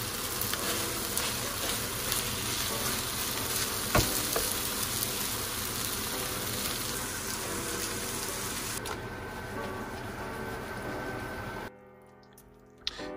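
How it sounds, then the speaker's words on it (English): A Thai curry made with coconut milk simmers and sizzles in a pan, a steady close bubbling hiss that carries on without talk and cuts out abruptly near the end. "we are cooking a little Thai curry"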